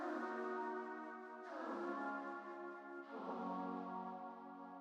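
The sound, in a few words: flute sample played in FL Studio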